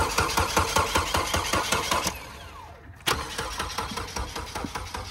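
A Ford F150 truck engine cranks repeatedly without catching, a rhythmic loud chugging of the starter that briefly pauses, then resumes cranking again, close to the microphone.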